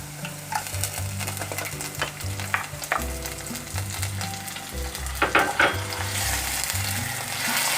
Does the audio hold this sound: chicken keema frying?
yes